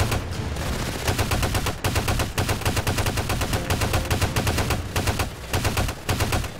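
A machine gun fires in rapid bursts in the video game Ravenfield, with dense loud rattling volleys broken by short pauses between bursts, no talk over it.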